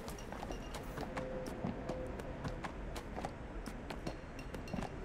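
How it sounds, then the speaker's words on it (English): Horse hooves clip-clop steadily on the streets of the fantasy game Neverwinter, a continuous trotting rhythm with faint clinks, moderately loud under a busy ambient game soundscape. "let me get back on my horse."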